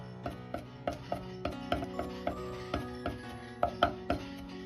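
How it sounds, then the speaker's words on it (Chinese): A kitchen knife chops ginger and garlic on a cutting board after they are smashed, a steady series of about a dozen sharp, close thuds at a brisk, even rhythm with no talking. "先拍破再剁碎。"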